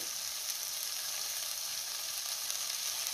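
A lemon and green chili mixture being stirred in a hot pan over a low flame, giving a steady, continuous sizzle and frying hiss with soft stirring underneath, close and even throughout.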